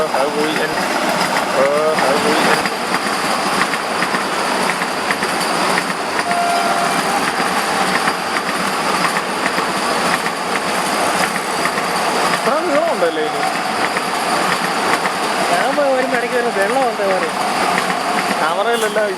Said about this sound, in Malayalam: ട്രെയിൻ വരുന്നൊരു കാഴ്ചയുണ്ട് അത് നമുക്കൊന്ന് കണ്ടു നോക്കാം